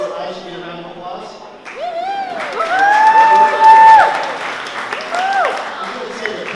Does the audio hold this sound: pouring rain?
no